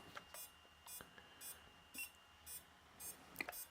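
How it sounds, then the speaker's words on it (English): Short electronic beeps repeat about every half second, thin and high-pitched, fairly quiet, with no talking. "It's beeping. You see that?"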